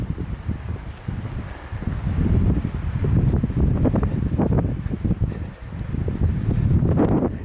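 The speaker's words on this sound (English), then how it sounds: "Wind died down just a little bit, which is nice." Wind gusts steadily across a mountain lake trail in Colorado near Diamond Lake, a loud, continuous buffeting rumble against the microphone that swells and eases throughout, with no voices.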